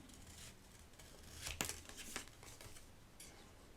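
Scissors cut a piece of paper ephemera in a few faint, quick snips, with one sharper crisp cut in the middle and no talking.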